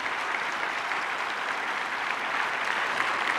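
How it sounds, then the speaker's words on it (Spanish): A church congregation applauds during a Sunday service, a steady, dense wash of clapping from many hands that holds at an even level throughout, with no voices rising above it. "Espero que podamos volver a aplaudir por estos hermanos que han preparado esto."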